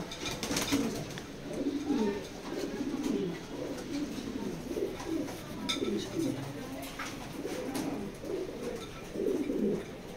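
Racing pigeons, a pair of Maxi birds, coo continuously in a loft, layered murmuring calls that overlap throughout, fairly close and steady, with faint wing rustles and background noise.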